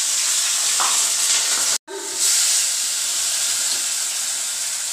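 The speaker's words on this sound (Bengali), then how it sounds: "মাছের তেলটা যেটা বেঁচেছে অবশিষ্ট, এর মধ্যেই ফোড়ন দিয়ে দিচ্ছি, কাঁচা লঙ্কা আর কালো জিরে।" Green chilies and nigella seeds sizzle loudly in leftover oil from frying pabda fish, a steady close hiss that cuts out briefly midway and then resumes just as strongly, with no talking.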